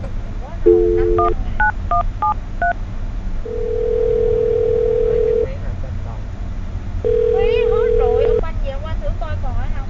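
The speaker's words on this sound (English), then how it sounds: "I'm going to dial the phone number right now, get him on the phone" A telephone number is dialed, with a quick run of short DTMF keypad beeps followed by two longer sustained tones, clear and close over a low background hum.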